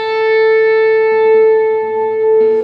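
A sustained clean electric guitar note, bent and held, with a slight wavering pitch and a faint second attack near the end, close.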